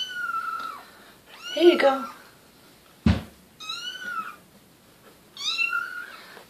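Four-week-old kittens meow in several high, rising calls spread through the moment, close and fairly loud, with a person speaking briefly between them and a soft knock partway through.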